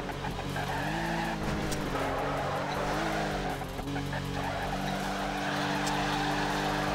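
Nissan S14 drifting in the racing game Torque Drift, its engine droning steadily over continuous tire squeal and skidding for the whole stretch, loud and close with no talk.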